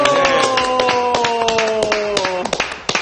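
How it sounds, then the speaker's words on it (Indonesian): A small group claps in quick, uneven rhythm, close by, over a sustained ringing tone that fades out near the end. "Kita langsung berikan tepuk tangan untuk Naga 9"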